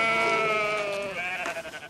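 Sheep and goats on a school farm beside a monastery in Kaufbeuren, Allgäu, bleating in one loud, close, wavering call that trails off.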